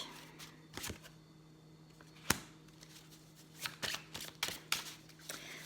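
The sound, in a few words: shuffling tarot cards for a reading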